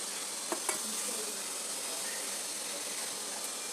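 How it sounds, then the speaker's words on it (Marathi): Sesame seeds dry roasting in a pan over low heat, a soft continuous hiss with a couple of light clicks early on, quiet and close. "सर्वात पहिले आपल्याला तीळ भाजून घ्यायचे आहेत"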